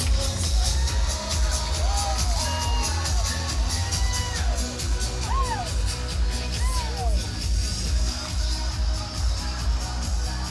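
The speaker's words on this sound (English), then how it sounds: "Lots of cheers from the crowd for Oshkosh Jazzercise." Outdoor parade crowd noise during a Fourth of July parade in Oshkosh, steady cheering and shouts as a Jazzercise group passes, with whistles and voices rising over a continuous loud background of music and chatter.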